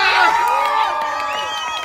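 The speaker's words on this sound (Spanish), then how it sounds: "¡Vale, un aplauso, por favor!" An outdoor crowd cheers, whoops and shouts excitedly at a street rap challenge with a car as the prize, with overlapping excited voices rising and falling throughout.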